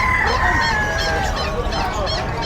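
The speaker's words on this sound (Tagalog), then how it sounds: "Meron silang pinagkakagulhan dito merong giant chicken, native at itong mga kalapate." Chickens, including giant and native breeds, and pigeons at a busy outdoor pet market in Bocaue, with loud nearby honking squawks and crowing-like calls repeating over a constant crowd murmur.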